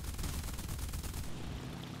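Rapid bursts of MG FF cannon fire from a German He-112 B1/U2 fighter in War Thunder, aimed at a Hurricane. The dense, loud rattling runs for about a second before cutting off into quieter engine noise.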